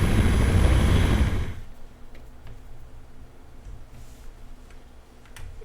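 A toy helicopter flies alongside mini airplanes: a loud, rushing burst opens, then drops to a steady, fainter motor whir that continues alone.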